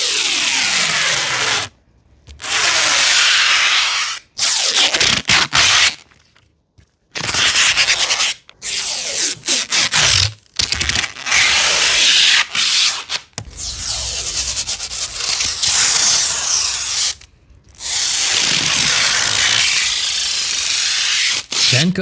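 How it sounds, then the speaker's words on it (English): Protective foil peeled off plastic ant habitat parts in long, close scratchy rubbing bursts separated by short silent gaps, loud and dry with a hissy edge. "First we remove all the protective foil. Listen to these satisfying sounds."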